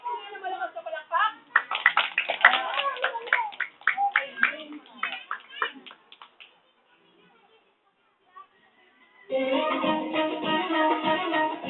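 Children in a classroom-like setting clap loudly in bursts of sharp, fast claps mixed with their voices, then fall silent before a renewed wave of noisy clapping and chatter.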